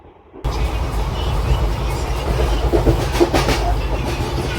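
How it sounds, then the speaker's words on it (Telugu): A Repalle–Secunderabad express train rolls along with a steady, loud rumble and rhythmic clickety-clack of wheels on rail joints, heard from close by after a brief quiet start. "అది రేపల్లె సికింద్రాబాద్ ఎక్స్ప్రెస్"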